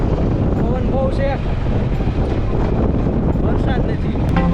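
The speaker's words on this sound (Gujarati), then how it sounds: "પવન બહુ છે," Strong wind gusts over the microphone on Banbha Hills near Surat, producing heavy low rumbling buffeting throughout, with brief voices and faint whistle-like calls heard through the roar.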